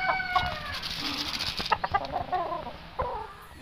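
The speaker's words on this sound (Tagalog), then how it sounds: "pakain tayo ng mga manok ulit" Backyard game fowl roosters crowing in long calls while chickens cluck in short bursts, moderately near and layered over each other with no talking.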